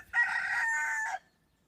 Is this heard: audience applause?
no